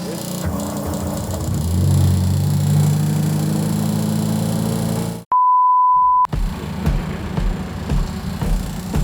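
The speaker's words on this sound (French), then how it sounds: "Oh la pompe à essence, frère." Electric fuel pump in a stripped Golf R32 race car with no dashboard, heard as a steady whir inside the cabin amid engine rumble, then a sharp steady electronic tone breaks in briefly before the engine noise returns.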